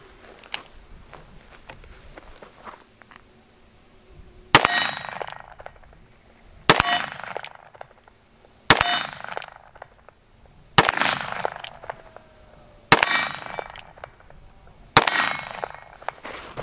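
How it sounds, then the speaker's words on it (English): Six loud gunshots from a Colt King Cobra 4-inch target model revolver firing Aguila .357 Magnum rounds at a silhouette about 20 yards away, evenly spaced roughly two seconds apart, each with a ringing metallic ping, outdoors with no talk. "I'm going to be taking a few shots at my silhouette down there at about 20 yards"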